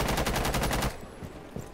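Rapid gunfire from a video game, a fast, evenly spaced burst of loud close shots lasting under a second, then fading into quieter background noise.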